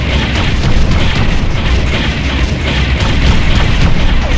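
Explosion of a destroyed enemy Haverdyne unit in the Ground Control strategy video game, a dense, continuous roar of booming blasts and rumble sustained loudly throughout amid battlefield noise.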